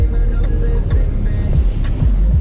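A BMW M5 drives through rainy German weather, with a loud low engine rumble and road noise from inside the car, joined by occasional thumps and hiss.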